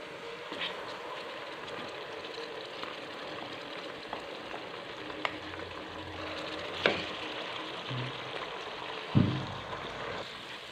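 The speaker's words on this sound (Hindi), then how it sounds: "प्याज ब्राउन हो चुके हैं। अब इसके अंदर हम अदरक लहसुन का पेस्ट शामिल करेंगे।" Ginger garlic paste frying in a pan with browned onions for a desi mixed vegetable dish, a steady low sizzle with occasional stirring clatters and two louder knocks.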